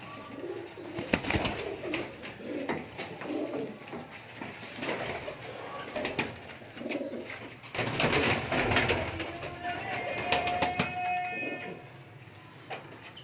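Pigeons kept for sale in a Sheikhupura loft coo repeatedly in low, throaty rolls throughout, close by, mixed with rustling, wing movement and faint background voices.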